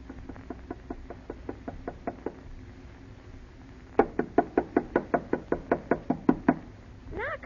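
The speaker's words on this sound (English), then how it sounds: "Knock harder, Alice." Knuckles rap on the wooden door of a house at night, a run of about ten evenly spaced knocks, a pause, then a louder, quicker burst of about a dozen, close and crisp.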